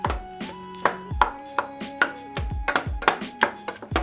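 A wooden spoon crushes whole tomatoes in a pot with a series of irregular, close thuds and squelchy knocks. A faint tonal hum runs under them.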